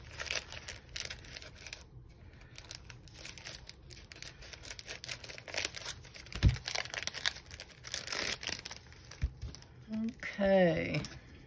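Scissors snip and cut at a package alongside crinkling plastic wrap, a series of irregular close clicks and rustles, ending with a short burst of speech.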